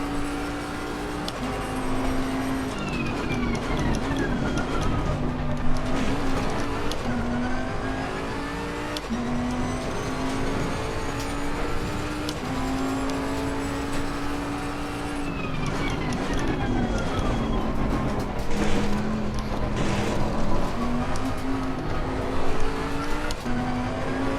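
A race car engine in Assetto Corsa Competizione screams loudly and steadily, with pitch climbing through the gears and dropping at each shift, repeating in long runs without any talk.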